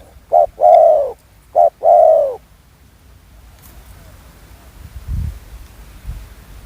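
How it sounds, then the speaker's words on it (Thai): Two clear hooting coos ring out close by, each a double note, followed by quieter low rumbling sounds. "เสียงนกคู่ครับผม"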